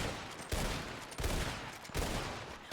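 Sustained gunfire fills a video game battle, a dense wash of shots with three sharp surges spaced about a second apart, loud and close.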